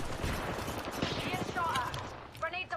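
Rapid bursts of gunfire in a video game firefight, dense crackling shots continuing under voices and game callouts.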